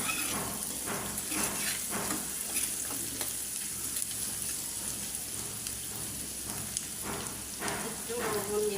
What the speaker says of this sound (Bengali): শুধু লবণ, কাঁচামরিচ আর পেঁয়াজ দিয়ে করলা ভাজি করি